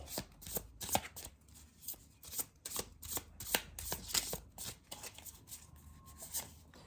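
Tarot cards being shuffled by hand in quick repeated riffles and taps, a steady rhythmic run of crisp papery flutters, close and fairly loud with no talking.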